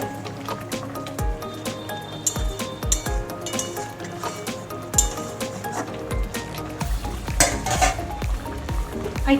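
Fried eggs are added to a pan of softened, cooked mango and stirred, with a metal utensil scraping and clinking against the pan in repeated strokes over a soft sizzle.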